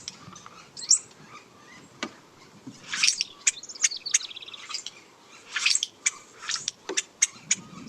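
A female bird sings alone at a meadow's edge near Big Bear Lake in short, metallic squeaky notes, repeated in quick bursts with brief pauses against a quiet background.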